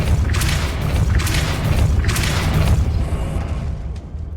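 In the video game Hogwarts Legacy, a Depulso spell is cast, bringing a series of loud, booming blasts and thuds that repeat about every second and then fade out, with no talking.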